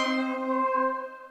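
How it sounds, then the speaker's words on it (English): A Roland D-series synthesizer plays its Polaris Plux patch, a single sustained bell-like tone rich in ringing overtones that holds steady and starts to fade, close and alone. "That's the Polaris Plux patch,"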